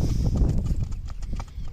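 A young, lightly ridden horse walks with a steady run of close hoof clip-clops, each strike sharp and distinct over a low rumbling background, with no talk over it.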